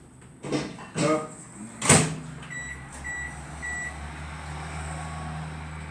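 An oven being set to bake for 12 minutes: a few clunks and a door thump, then a series of short electronic beeps as it is programmed, followed by a low steady hum as it starts running, with faint talk nearby.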